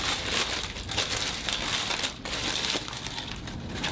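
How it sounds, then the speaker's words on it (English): Tissue paper wrapped around a cosmetics set of bronzer and lip gloss is unwrapped, producing continuous close crinkling and rustling with brief pauses, loud and without talk. "It does come wrapped up in tissue paper."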